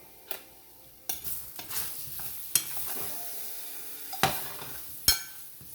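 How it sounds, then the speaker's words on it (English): Black plantain frying in a pan with ground cinnamon, stirred with scraping strokes and occasional knocks against the pan over a steady close sizzle, no talking. "Now I'm going to stir this up."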